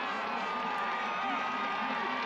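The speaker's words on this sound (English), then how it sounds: "The crowd roaring on." A stadium crowd roars steadily at the finish of a women's canoe sprint race at the ICF Canoe-Kayak Sprint World Cup, a continuous loud wash of cheering with no clear breaks.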